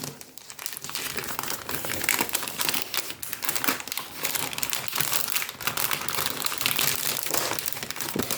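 Plastic and paper packaging crinkles and crumples continuously as items are tucked back into a small parcel, close and fairly quiet, with no talking.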